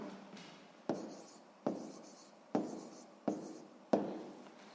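Pen strokes scratch across paper while math notes are written, five quick bursts of scribbling in a steady rhythm, close and quiet.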